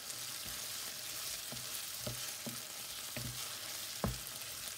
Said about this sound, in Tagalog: Lulutuin lang natin ang sibuyas at ang amoy ay hindi amoy ng isang hilaw na